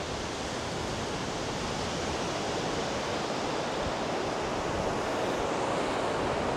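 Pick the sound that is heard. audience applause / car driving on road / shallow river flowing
shallow river flowing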